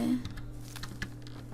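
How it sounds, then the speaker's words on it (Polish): Computer keyboard typing heard as quiet, irregular clicks and key taps close by over a low background hum, with no voice over the keys. "jeżeli słyszycie moją klawiaturę, to też sorry"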